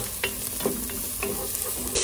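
Garlic sautés in a hot pot as the base for sinigang with spare ribs, a soft steady sizzle broken by several light stirring scrapes spaced through the moment.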